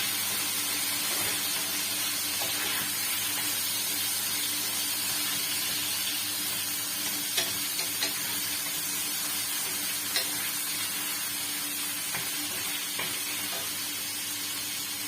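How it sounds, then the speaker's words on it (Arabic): Chicken paella frying in a pan as it is stirred, giving a loud, continuous sizzle and hiss with faint scraping ticks from the stirring throughout, no voices. "كما كتشوفوا هنايا راه كنبقاو نحركو مزيان"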